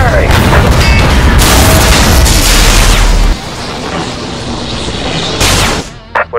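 Leman Russ tank cannon firing in a Death Korps of Krieg video game mod, loud booming blasts and rumbling battle noise at close range, then a sudden drop to quieter clatter and short bursts.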